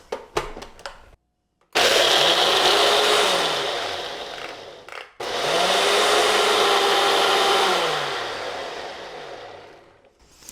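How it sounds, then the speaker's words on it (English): A blender roars loudly at high speed crushing ice for a mango margarita in two long bursts, its motor whining steadily with a gritty churning texture, separated by a brief pause. "use whatever high-speed blending that you have on your blender"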